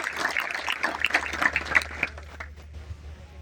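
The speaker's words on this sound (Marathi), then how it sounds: "त्या पालकांसाठी एकदा जोरात टाळ्या होऊ द्या" A crowd of parents and guests at a gathering applauds, with a dense burst of clapping that fades out toward the end, heard at moderate loudness in a room.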